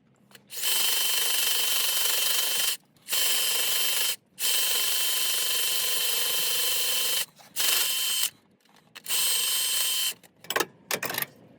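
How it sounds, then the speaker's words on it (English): A carbide burr on a power tool grinds metal exhaust pipe for a diesel mini truck, a loud high-pitched whine in several long bursts separated by brief pauses, ending with a few short stuttering touches. "I'll probably get the carbide burr back out and to clean it up a little bit"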